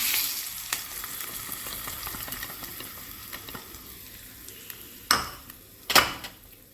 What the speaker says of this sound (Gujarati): વઘારને આપણે આમાં એડ કરી દઈશું.